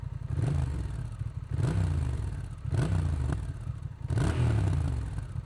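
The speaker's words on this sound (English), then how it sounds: "let's listen to the exhaust. This is with the Standard Baffle" A Honda Rebel 1100 motorcycle exhaust with the standard baffle rumbles at close range, blipped in four short revs that rise and fall at a steady, repeating pace.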